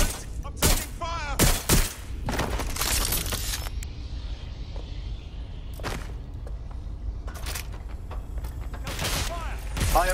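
Bursts of gunfire in the London-set video game Watch Dogs Legion, several loud sharp shots clustered early and again near the end, with quieter mechanical game ambience between and a voice talking at moments.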